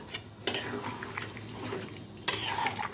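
Water poured into a pot of simmering vegetarian pumpkin greens, then a lid set on top, giving two sharp metallic clanks over soft kitchen clatter and faint background murmur.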